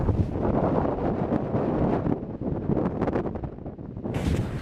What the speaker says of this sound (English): The wind is just insane.